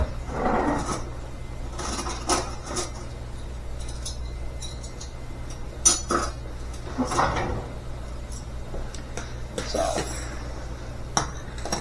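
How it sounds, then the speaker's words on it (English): Bowls are taken out and handled in a home kitchen while making turkey soup, with scattered clinks, knocks and a cupboard or sliding door movement over a low steady hum, brief speech in between. "Got some bowls here."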